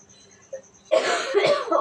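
A single faint sound at first, then a loud, harsh cough bursts out close by, rough and breathy, lasting about a second.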